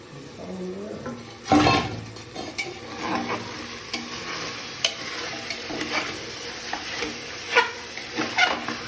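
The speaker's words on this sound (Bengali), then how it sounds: "ভালো করে কষিয়ে নেওয়া হচ্ছে মাংসটা" Mutton pieces sizzling in a pan with capsicum and tomato, stirred with loud scraping bursts over a steady fry; no one speaks.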